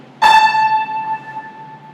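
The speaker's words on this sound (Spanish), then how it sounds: "eso te va a dar resultado un La 5, que suena así." A single clear musical note, A5 at 880 Hz, sounds with a sharp attack, then rings and slowly fades, bright with overtones.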